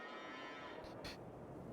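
Cows moo in Farming Simulator 22, a short lowing call rising out of a quiet farmyard ambience, fairly faint and heard from a moderate distance.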